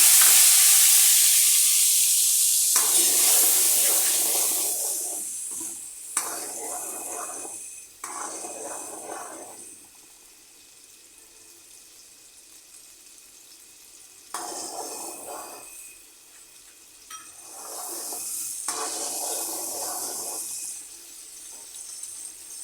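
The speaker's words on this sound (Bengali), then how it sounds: "এইভাবে ভালো করে মশলাটা কষিয়ে নিতে হবে" Bay leaf, panch phoron and mixed spice paste frying in a pan for a vegetarian raw banana and potato curry. A steady sizzling hiss is broken by several bursts of scraping and stirring, mid-loud and close, then it quietens before louder frying returns.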